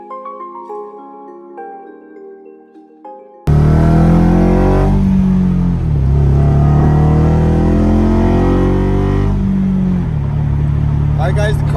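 A few seconds of quiet music give way to a Honda S2000 engine roaring close by, revving up and settling in several loud pulls through the exhaust.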